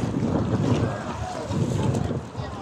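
Strong wind buffets the microphone in heavy gusts, with water sloshing around a boat underneath, during a water show in St. Petersburg.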